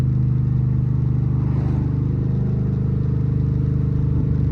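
A cammed 5.7 engine in a Dodge Charger drives along a street with a major exhaust leak, giving a loud, steady low rumble with rapid pulsing throughout and no talking.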